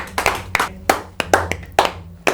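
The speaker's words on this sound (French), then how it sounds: "Je crois qu'on peut s'applaudir." A few people at a company meeting clap for themselves, sparse, uneven handclaps close by, about a dozen sharp slaps in quick irregular rhythm.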